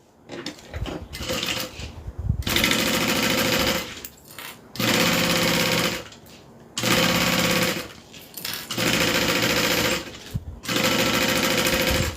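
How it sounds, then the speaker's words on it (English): Sewing machine stay stitching a zipper onto a train case, running in four or five loud sustained bursts of rapid stitching separated by short pauses and handling noise. "So I'm going to stay stitch this down."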